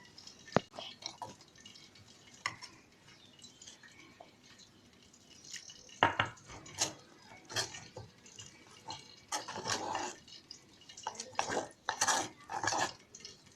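Gram flour batter for pakoras stirred with water in a bowl, soft wet squelching and scraping with occasional sharp clinks of utensil against the bowl, growing busier and more rapid toward the end.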